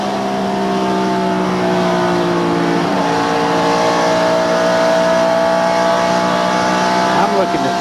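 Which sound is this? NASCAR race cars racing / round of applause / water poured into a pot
NASCAR race cars racing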